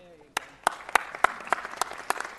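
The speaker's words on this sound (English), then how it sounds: "Let's give them one more big round of applause" Audience applause at a city council meeting, a crowd clapping in a sharp, irregular burst that starts after a brief quiet moment and stays moderately loud and close.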